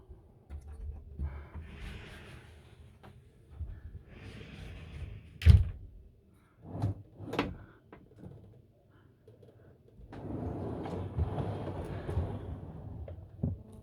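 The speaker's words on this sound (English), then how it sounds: "Right, let's open the door now." The entry door of a Carthago Chic C-Line i4 9 L motorhome opens with a few sharp latch clunks and clicks, followed by softer rustling and movement nearby.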